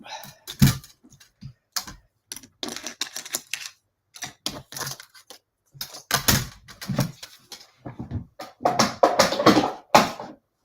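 Paper card being cranked through a die-cutting machine for a Z-fold card, giving a series of close, irregular clicks and clunks with brief pauses between them.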